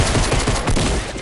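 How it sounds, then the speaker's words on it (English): A rapid burst of gunfire in the Fortnite video game, loud, dense shots in quick succession filling a brief moment with no talking. "Yep, gunshots."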